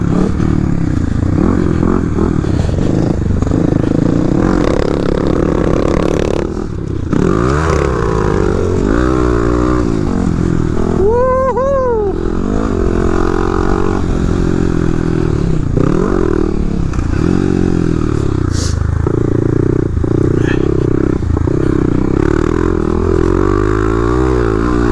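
A Kawasaki KLX300SM motorcycle rides a motocross track, its engine loud and close throughout, constantly revving up and backing off with gear changes, clatter and one sharp high rev midway.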